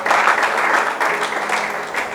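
A church congregation applauds, dense and steady clapping from many hands filling the room, with slight surges in intensity throughout.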